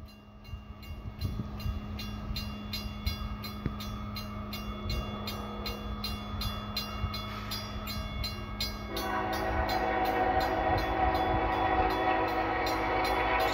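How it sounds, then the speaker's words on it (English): A loaded ethanol freight train led by Canadian Pacific heritage locomotive 7022 rumbles past, with a continuous heavy rolling roar and a loud sustained horn that grows louder toward the end. "Loaded ethanol train. 64A is coming through."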